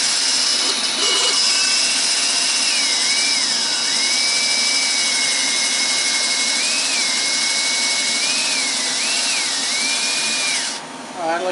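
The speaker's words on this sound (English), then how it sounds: "I'm just putting moderate pressure on the drill" A power drill on a 1974 Ford F100 whines steadily at high speed under moderate pressure, its pitch rising and dipping slightly as pressure changes, running continuously for several seconds before stopping.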